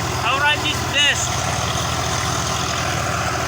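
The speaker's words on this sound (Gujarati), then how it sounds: "આપણે ટ્રેક્ટર ટોચિંગ થઈ ગયું છે અને બંને ટ્રેક્ટર આવી રહ્યા છે." Two Swaraj tractors, one pushing the other, haul a trolley loaded with maize up a steep slope. Their engines give a steady low rumble with a rhythmic chug, and a voice briefly shouts over them early on.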